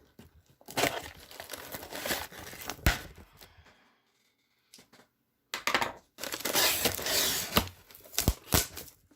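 Packing paper crinkles and crushes loudly in bursts as an album package is unpacked, close rustling with a brief quiet gap midway and no talk over it.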